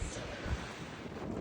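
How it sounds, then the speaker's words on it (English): Strong wind gusting across an open hilltop, buffeting the microphone with a steady low roar and rumbling surges throughout. "windy today"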